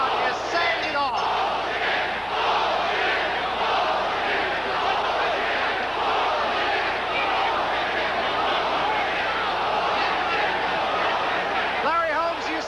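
A packed arena crowd roars continuously amid chaos in the boxing ring after the 1982 Michael Dokes vs Mike Weaver fight, with loud sustained shouting and cheering throughout and voices mixed into the din.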